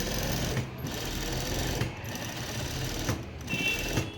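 A sewing machine runs steadily on fabric with a dense mechanical rattle and hum, briefly easing off at a few points, heard up close with no talking.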